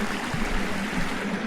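A creek on rural California acreage flows steadily, a continuous broadband wash of running water with low gurgling, close and even throughout with no voices.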